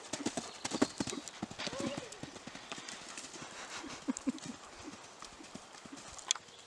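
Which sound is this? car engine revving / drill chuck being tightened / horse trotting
horse trotting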